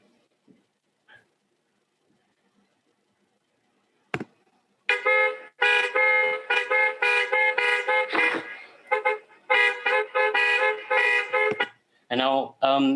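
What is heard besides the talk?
recording of car horns honking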